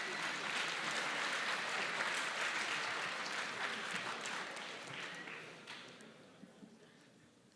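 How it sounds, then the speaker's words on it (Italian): Students at a school award ceremony, honoured for the inventiveness and quality of their work, receive a sustained round of applause that holds strong for several seconds and then gradually dies away. "Un applauso anche per loro"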